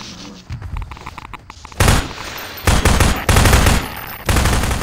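Automatic gunfire at headcrab zombies in Half-Life 2 crackles in loud bursts separated by short gaps, with quieter scattered shots at first and then heavy sustained volleys.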